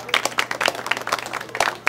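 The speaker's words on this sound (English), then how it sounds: "let's give another round of applause for Toby and his juggling dogs" A stage show audience claps for a juggling dogs act in a short, dense burst of applause that stays fairly close and bright throughout.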